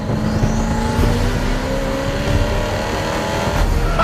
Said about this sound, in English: Listen to the turbos just spool up.